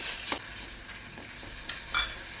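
Mustard-coated beef pieces sear in a hot pan with a steady crackling sizzle, broken by a few brief scraping stirs and louder bursts of spitting fat near the end.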